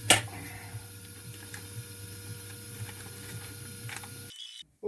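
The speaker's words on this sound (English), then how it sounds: "Vacuum pump." A vacuum pump hums steadily under rapid mechanical ticking and clicking as it draws down a mould for a turbofan part, the running noise continuing evenly before cutting off abruptly near the end.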